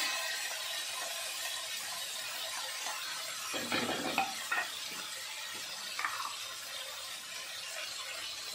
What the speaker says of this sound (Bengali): আমার মশলাটা কষানো হচ্ছে